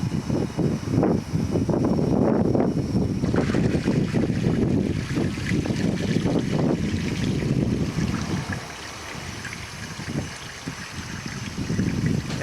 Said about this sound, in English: I'm going to remove the plug at the bottom. And let this drain out.